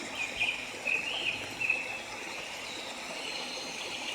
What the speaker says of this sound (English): I can hear the sound of birds, the sound of water, the sound of the forest